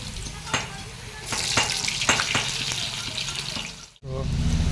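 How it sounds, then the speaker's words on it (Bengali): Potato pieces dropped into hot oil for a Bengali mutton curry, giving a steady sizzle and splashy frying hiss with a few sharp clinks and stirring knocks, close and fairly loud, broken by a brief gap before the frying resumes. "আমাদের তেল গরম হয়ে গেছে, আলুটা প্রথমে দিয়ে দেবো।"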